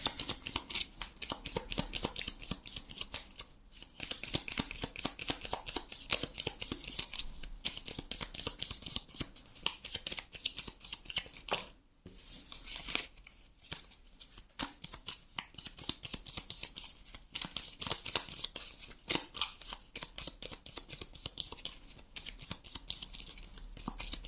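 Tarot cards shuffled continuously by hand, a quiet, close, rapid papery flutter of riffles and slides that keeps going for over twenty seconds with one brief pause midway, and no one speaking.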